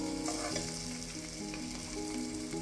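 Onions and tomatoes fry in a pan with a dense, continuous sizzle and crackle, close and steady throughout with faint stirring scrapes and no talking.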